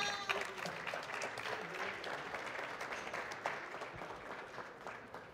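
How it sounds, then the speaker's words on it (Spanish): Steady audience applause at a panel event on energy and sustainability, a continuous patter of many hands at moderate distance that tapers slightly toward the end. "Si les pueden regalar un aplauso."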